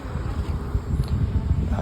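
Strong outdoor wind rumbles and buffets the microphone in steady low gusts during a test flight of an eagle kite, with no voices over it.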